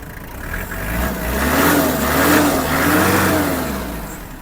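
A Kubota L1-325 Hi Speed mini tractor engine runs steadily close by, its low rumble rising and falling slightly as it revs up and settles back.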